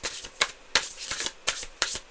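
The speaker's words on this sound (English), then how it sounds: "One more shuffle." Tarot cards being riffled and shuffled by hand in a reading for Pisces, with six or seven crisp bursts of card flutter in quick, uneven succession. The bursts are close and fairly loud, and nobody speaks.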